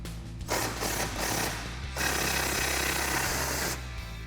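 A power tool removes the top shock bolts on a Jeep Wrangler JL during a lift kit install, with two sustained rattling bursts of buzzy impact hammering, loud and close, separated by a short break.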